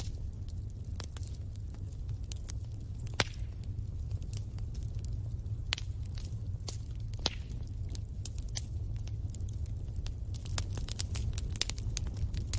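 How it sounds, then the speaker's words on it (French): Wood crackles softly in a fireplace fire, scattered dry pops and snaps of varying sharpness over a low steady rumble of flame, gentle and continuous with no voices. "Vous écoutez le bois craquer"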